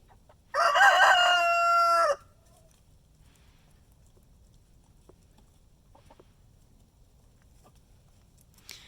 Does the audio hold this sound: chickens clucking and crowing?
yes